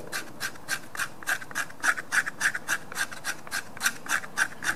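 A very sharp Jääkäripuukko knife scraping wood to make tinder, a steady series of quick rasping strokes at an even rhythm, close and moderately quiet with no talk.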